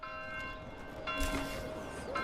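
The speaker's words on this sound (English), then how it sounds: "You can hear the bells." Church bells ringing in the medieval city-building game Manor Lords, sustained tonal peals with fresh strikes partway through and near the end, ringing over a low ambient bed.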